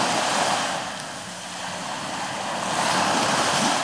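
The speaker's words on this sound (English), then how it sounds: "early morning on Darwin Beach." Calm ocean waves wash onto Darwin Beach in the early morning, a soft, continuous surf hiss that swells gently and eases, with a little wind across the microphone.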